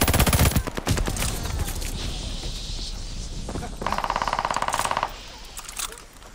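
Nikita AVT assault rifle in a PS5 shooter, firing in a heavy opening burst and then a sustained rapid automatic run, loud and close, with game noise around it.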